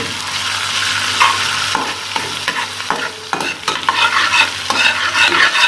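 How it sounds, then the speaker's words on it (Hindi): Garlic-ginger paste frying in hot oil for a chicken and potato samosa filling, a steady loud sizzle with repeated scraping stirs of a spoon against the pan, no talking. "इसके अंदर 1 टीस्पून लहसुन अदरक का पेस्ट शामिल करेंगे और इसे थोड़ा सा फ्राई करेंगे।"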